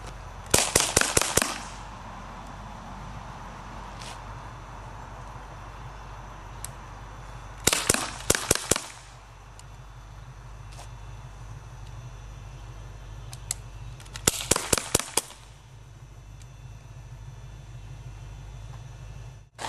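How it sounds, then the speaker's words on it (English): Crosman C11 air pistol firing three rapid bursts of five sharp snapping shots each, spaced several seconds apart, with quiet background between bursts. "I'm going to fire 5 rounds each time I draw"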